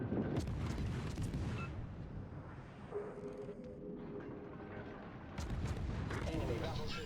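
Naval gunfire from HMS Icarus, a British destroyer in World of Warships, with heavy booming salvos at the start and end around a rumbling engine hum and a radio-style voice talking.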